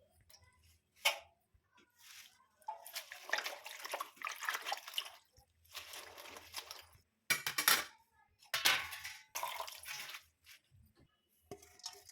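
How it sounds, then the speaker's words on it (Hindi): Moong dal being washed in a bowl of water, with bursts of sloshing and rinsing splashes separated by short pauses, close and moderately loud. "तो यहाँ पे लिया मैंने 1 कटोरी मूंग दाल और इसको अच्छे से मैं वॉश कर लेती हूँ।"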